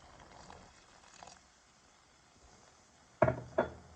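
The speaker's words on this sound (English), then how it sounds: "now you want to add about another 1/2 cup of your broth" Broth is poured into couscous risotto in a pan as a faint, soft trickle, followed by two sharp, close knocks.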